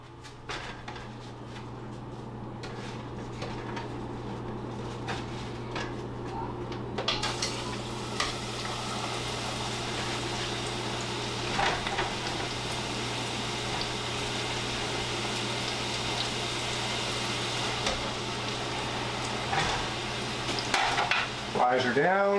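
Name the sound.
frying french fries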